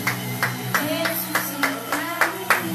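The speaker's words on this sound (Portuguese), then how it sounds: "Vamos aplaudir o Senhor, amém, igreja?" A church congregation claps together at a family worship service, about nine evenly spaced beats in a steady rhythm over sustained organ or keyboard chords, fairly close and moderately loud.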